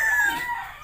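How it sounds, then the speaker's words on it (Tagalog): A fighting cock crows in a single short, sharp burst that fades quickly, heard fairly close with no voices over it. "yan pa yung isang pangsabong na manok"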